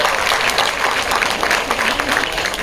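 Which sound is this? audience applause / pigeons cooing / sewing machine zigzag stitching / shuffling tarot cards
audience applause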